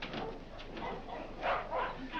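A dog gives short barks mixed with soft whimpers and yips, fairly quiet, with people talking over it in the background.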